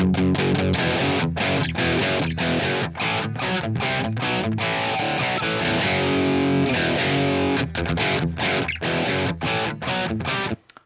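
A heavily distorted electric guitar through Neural DSP and STL Tones amp-sim plugins plays chugging riffs with short stops between phrases, loud and dense throughout, with no voices.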